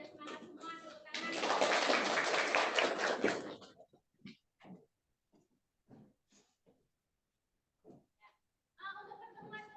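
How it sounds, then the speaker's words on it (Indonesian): Children in an online classroom guidance session clap together in a loud, dense burst lasting a couple of seconds, followed by scattered short sounds and brief speech. "sudah semangat semua tepuk tangan"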